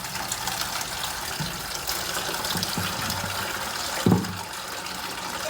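Antifreeze drains from a Massey Ferguson 1155 tractor oil pan into a bucket, a steady trickling and splashing of liquid with a brief louder gush near the end.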